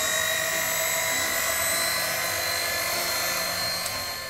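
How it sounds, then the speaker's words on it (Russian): An electric mixer runs at low speed, kneading kulich (Easter bread) dough, giving a steady, close whirring motor whine that holds evenly throughout with no talking. "Сейчас аккуратненько на небольшой скорости вмешиваем."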